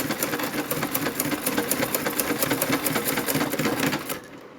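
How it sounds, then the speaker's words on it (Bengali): A sewing machine stitches cloth while a long two-piece dress is being shortened, its needle chattering in a fast, even rhythm for about four seconds before stopping. "একটু ছোটো করে তারপর আবার সেলাই করে দিচ্ছি।"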